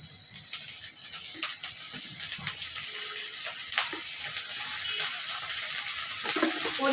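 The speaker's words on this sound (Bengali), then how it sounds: "তো এখানে আমি মশলাটা একটু ভেজে নিব" Spices sizzling and crackling in a hot pan, a steady bright hiss dotted with small pops and occasional clinks, close and continuous without any speech.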